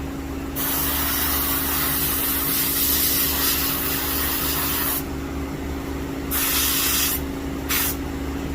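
Spray painting the legs of a mallard duck decoy: long steady hisses of aerosol spray with a few brief pauses between bursts, close and fairly loud over a constant low hum.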